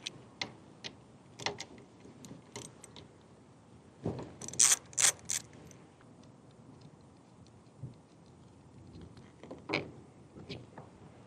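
Ratchet on a Harley-Davidson motorcycle snugging a Klock Werks handguard and mirror bolt, with faint, sparse clicks and small metallic taps spaced out, plus a brief louder clatter of handling in the middle, quiet and close.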